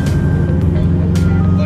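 Turbocharged Subaru Legacy GT in sport mode, heard from inside as a loud, steady low engine drone while accelerating.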